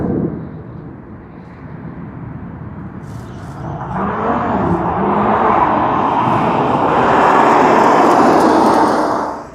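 An airliner, United flight UA863 from San Francisco, arrives at Sydney Airport with a broad jet roar that swells from a distant rumble to a loud, sustained whoosh and holds there before easing slightly.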